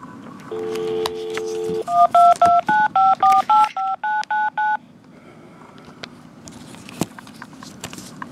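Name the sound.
telephone dialing tones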